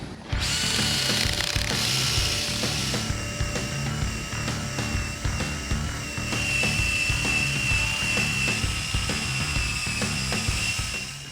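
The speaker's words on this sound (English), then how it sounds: "So we have an eraser wheel. This is just hooked to a drill." A power drill spins continuously with a high, whining grind as an eraser wheel rubs adhesive residue off a Chevy race truck, steady throughout with slight variations in pitch.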